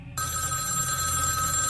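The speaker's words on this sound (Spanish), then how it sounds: "Poco después, sonó el teléfono." A telephone starts ringing abruptly after a brief moment of near-silence, a bright, steady electronic ring that sounds close and continues without a break to the end.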